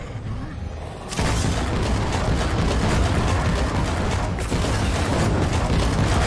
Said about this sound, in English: let's throw a heavier grenade at him